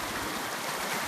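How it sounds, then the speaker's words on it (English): A beautiful river flowing in a steady, even rush of water, continuous and fairly close, with no voices over it. "I thought I'd take a refreshing dip in this beautiful river."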